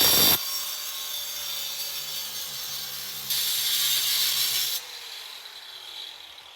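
A power cutter grinding through the metal hinge of an ATM, a harsh steady high-pitched cutting noise that swells louder for a stretch and then eases off.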